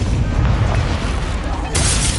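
An Incendio fire spell cast in Hogwarts Legacy, a loud whooshing roar with a low booming body that swells into a brighter burst near the end, sustained for about two seconds.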